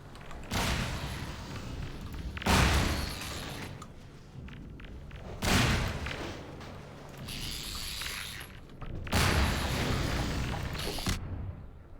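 Grenade blasts in the video game The Magic Circle, four heavy booming bursts spaced a few seconds apart, each loud and broadband with a lingering crackle, separated by quieter game noise.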